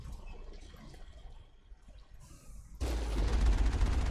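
Sustained burst of automatic turret gunfire in the video game Mass Effect, guarding a facility entrance; it erupts loud and dense after a quieter stretch and continues to the end.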